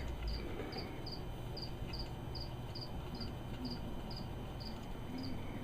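A cricket chirps in steady, evenly spaced pulses, bright and clear above a low rumbling background, as it is offered as food to a tarantula.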